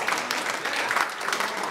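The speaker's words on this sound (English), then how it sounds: "Let's give Tom a big round of applause for the program." A live audience applauds steadily in a dense, even wash of clapping after a rumba number in a music program, with no voices over it.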